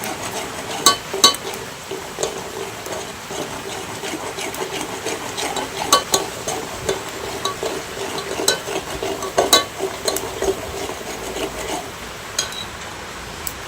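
Chili powder is stirred into a kantola (spiny gourd) curry cooking in plenty of oil, a continuous low sizzle broken by sharp clinks and scrapes of a spoon against the pot, close up, with no voices.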